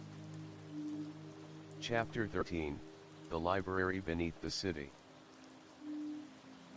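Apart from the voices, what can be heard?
rain falling on rooftops, story sound effect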